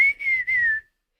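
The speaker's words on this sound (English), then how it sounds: "So we hear right there with that whistle." A clear whistle from the KPop Demon Hunters soundtrack song plays as one short phrase of three linked notes that drift slightly downward, loud and close, ending after under a second into silence.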